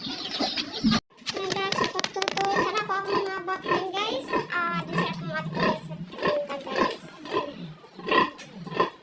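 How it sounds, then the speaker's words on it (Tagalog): Pigs at feeding time grunt and oink near the microphone, and people talk over the noise throughout. "Papakainin na natin ang ating baboy"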